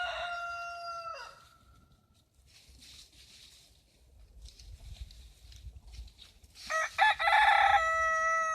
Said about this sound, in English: Thought I heard a rooster behind me.